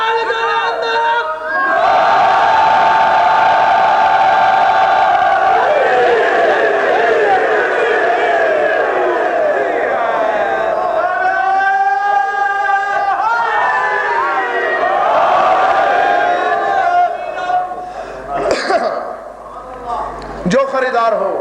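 A large crowd at a 2005 religious majlis gathering chants slogans together, many voices rising and falling in long, loud, sustained unison phrases that fill the space, with a brief lull and sharper shouts near the end.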